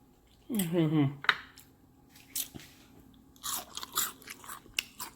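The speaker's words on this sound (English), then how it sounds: "Can you hear that crunch?" Deep fried crab crunches loudly at close range as it is bitten and chewed, with several crisp crackles spread across the moment and a voice talking between bites.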